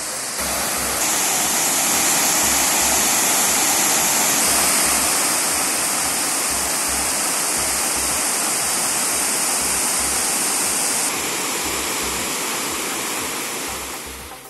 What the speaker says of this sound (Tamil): அணைக்கு வரும் 450 கனஅடி நீரும் அப்படியே வெளியேற்றப்படுகிறது